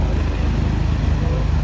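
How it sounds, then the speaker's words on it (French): A helicopter that has just landed nearby at a snowy ski area gives off a steady low rumble and whirr. The drone holds loud and unbroken the whole time, with no clear voices over it. "Il y a un hélicoptère qui vient de se poser."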